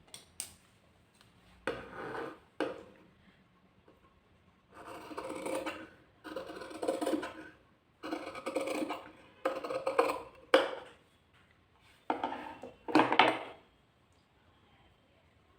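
Scissors cutting blouse fabric along a marked line with a small gap left for stitching, heard as several separate bursts of crisp rasping snips, close and fairly quiet, with brief pauses between cuts and no talking.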